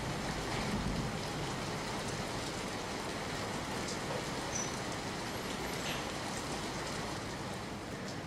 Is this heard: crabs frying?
no